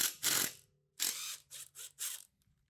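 Ratchet wrench cranking out a 13 mm bolt from a 2004 Mustang GT 4.6L 2V engine during a teardown, several close bursts of rapid clicking separated by short pauses.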